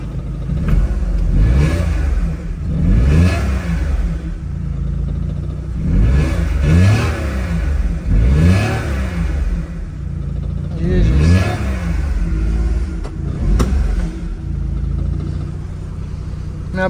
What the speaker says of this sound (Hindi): इस वक्त गाड़ी बिल्कुल स्टार्ट है और किसी किस्म की कोई वाइब्रेशन नहीं है